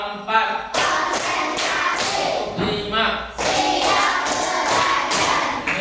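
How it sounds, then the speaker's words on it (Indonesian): Children in a classroom Islamic religious education lesson clap their hands in counted rounds, giving repeated sharp thuds and claps in bursts mixed with their chanting voices. "Tepuk 1, tepuk 2, tepuk 3, tepuk 4, tepuk 5."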